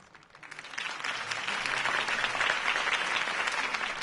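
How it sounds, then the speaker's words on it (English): A crowd in Batman: The Telltale Series breaks into loud, sustained applause at a Harvey Dent campaign rally, swelling within the first half second and holding steady as a dense wash of clapping. "If only Mr. Wayne, my campaign's largest backer, could have heard that applause"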